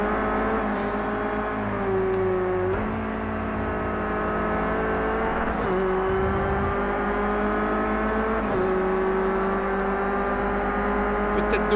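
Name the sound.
Renault Clio race car engine in Project CARS 2 video game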